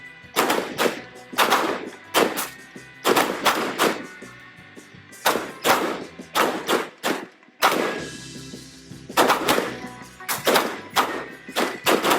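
Pistol gunfire at a timed shooting competition: sharp, loud shots fired in quick bursts of several rounds, with brief pauses between strings and a short gap near the middle, echoing in an open range.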